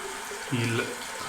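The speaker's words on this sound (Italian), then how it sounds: "Tanto facciamo uscire un po' d'acqua calda" Hot water running from a tap while a shaving brush is prepared for wet shaving: a soft, steady rush of water, fairly faint and close, with a voice talking over part of it.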